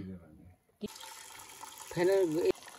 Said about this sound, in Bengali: এখানে ভাত ফ্যান গালা হচ্ছে